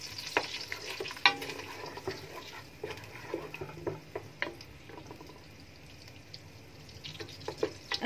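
Butter and Egyptian ghee melt in a pot, making a quiet, soft sizzle broken by scattered clicks and scrapes of stirring.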